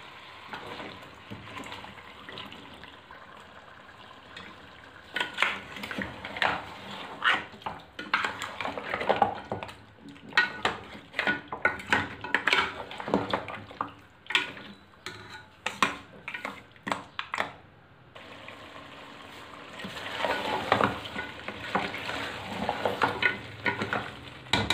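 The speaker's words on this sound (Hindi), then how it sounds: "अब थोड़ी देर हमने पायों को भूनना है" Boiled goat trotters (paye) frying in a pot, an oily sizzle under a long run of rapid, clattering spoon strokes and metal scrapes against the pot, pausing briefly before the stirring resumes, close and lively.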